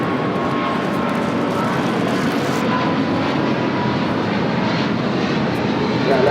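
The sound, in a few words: United Boeing 777 jet taxiing at LAX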